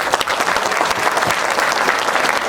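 An audience at a Hindi comic poetry gathering breaks into dense, continuous applause: many hands clapping loudly and steadily throughout, with no voices standing out.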